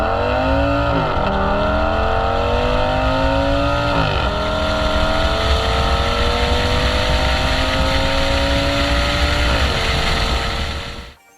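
A V10 Audi S6 with a straight-pipe and downpipe exhaust revs hard, loud and close, climbing in pitch through several rising pulls with brief dips between, alone with no talk, cutting off abruptly at the end.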